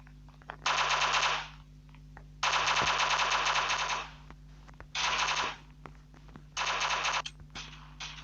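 Automatic gunfire in the block-style shooter game Block Strike: four long, loud rapid-fire bursts separated by short pauses, with faint game ambience between them and no talk.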